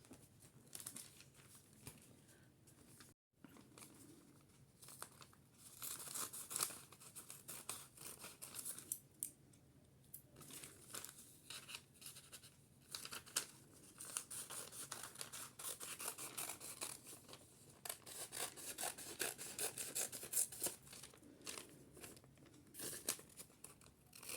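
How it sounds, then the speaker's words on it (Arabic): Scissors cutting fabric while sewing a dress, heard as repeated crisp snips and rustling cloth across a long stretch, close but fairly quiet. "والآن نقص."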